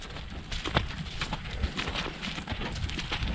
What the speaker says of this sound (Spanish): andar a caballo.